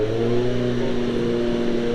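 A 1970s 2-valve Jawa speedway motorcycle engine runs at Gillman Speedway during the Australian Masters Games, a loud, steady, nearby drone with a slight rise in revs.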